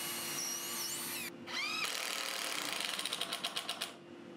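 A power drill with a 3.5mm bit bores a hole through a batten on a wooden skate ramp, a steady close whir that rises to a rapid rattling chatter as the bit cuts, then eases off.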